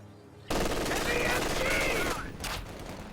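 Bursts of MG42 machine gun fire in the strategy game Company of Heroes 2: a sudden, loud stream of rapid rattling shots that holds steady for about a second and a half, then tapers into a shorter trailing burst.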